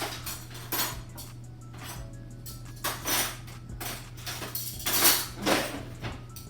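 Metal spoons clink and scrape against tartlet cups while scooping apple filling, several light irregular taps close by, with faint kitchen background and no talking.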